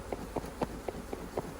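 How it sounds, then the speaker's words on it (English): Honey bees buzz around an opened hive during a brood-frame inspection, a faint steady hum broken by short repeated buzzy pulses of close bees passing, with no voices. "A lot of bees, a lot of bees."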